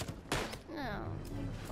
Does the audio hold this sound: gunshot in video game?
yes